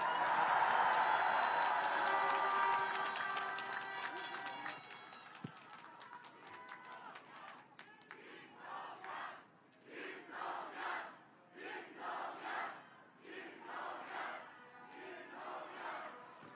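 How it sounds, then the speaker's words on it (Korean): A crowd at an outdoor campaign rally in Yeongdeungpo, Seoul roars and cheers loudly for about five seconds, then fades into bursts of amplified speech from the stage. "김동연 대표를 뜨거운 함성과 박수로 맞아주십시오"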